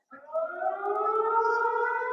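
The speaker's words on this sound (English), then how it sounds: "Oh yeah, the siren is about to sound now." Electronic siren sound effect played during a live trucking stream, a steady rising wail with stacked harmonic tones, loud and sustained alone for about two seconds.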